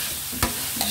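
Food is sautéed in a pan while cooking pares with crushed pepper, two quick stirring scrapes over a continuous soft sizzle, close up.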